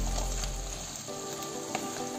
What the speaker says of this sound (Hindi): अब हम इसमें थोड़े हरे प्याज डालेंगे और इसे मिक्स करके जो गोभी फ्राई करके रखी थी वो भी डाल देंगे